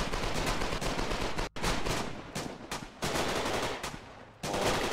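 Massed gunfire in the online war game Foxhole, with dense, continuous rifle and machine-gun bursts crackling loud and close, broken by a few brief pauses in the shooting and no talking.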